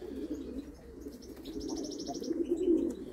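A male matte miro pigeon coos at a loft, low soft rolling calls at close range, with a brief higher chirp from another bird in the background.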